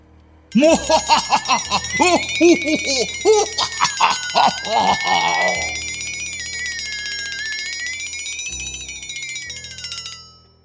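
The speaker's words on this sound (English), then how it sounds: "After I ring the bell." A bell-like alarm rings continuously and loudly for several seconds, starting right after a burst of barking-like yelps, then cuts off.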